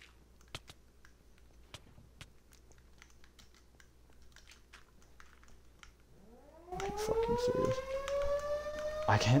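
A civil-defense-style siren in a PvP survival game starts suddenly partway through and rises into a loud, sustained wail, following a stretch of keyboard typing and scattered clicks.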